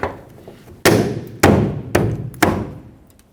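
Four firm thuds a half second apart as a taillight assembly on a 2011-2016 Ford F-350 Super Duty is tapped into place against the side of the bed, each knock sharp and close with a short ring-out, no talking.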